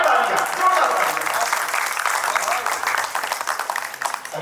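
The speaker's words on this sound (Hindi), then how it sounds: "एक बार जोरदार तालियां, जोरदार तालियां।" Hall audience at a Hindi comedy poetry gathering claps loudly in a dense, continuous wave that holds strong for several seconds and then breaks into more scattered claps, with some background voices.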